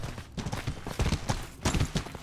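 Horse hooves clip-clopping in the medieval combat game Mordhau, a rapid uneven run of close, heavy thuds at a gallop.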